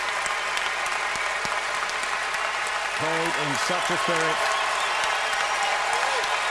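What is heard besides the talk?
crowd applauding, standing ovation at tennis match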